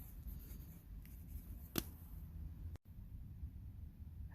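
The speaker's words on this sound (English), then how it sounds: "Let me write that down." A pen writes on paper, a faint soft scratching under steady background hiss with one brief sharp tap, close but very quiet and without talk.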